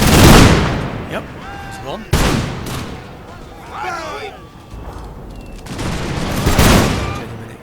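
Gunfire volleys from units in a video game battle ring out as sharp loud bursts and booms a couple of seconds apart, with someone talking between the shots.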